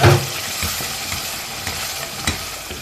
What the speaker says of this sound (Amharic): ሞለኪያውን እጨምራለሁ።